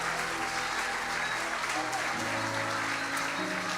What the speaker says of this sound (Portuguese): Forte aplauso ao Rei.